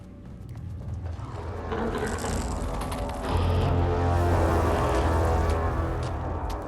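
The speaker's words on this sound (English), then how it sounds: "Oh, the elevator's back." Elevator machinery in the video game Alan Wake 2, a steady grinding, ratcheting mechanical drone that swells louder after a few seconds and keeps running without voices.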